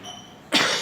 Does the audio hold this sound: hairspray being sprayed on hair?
no